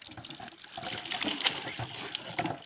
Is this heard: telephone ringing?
no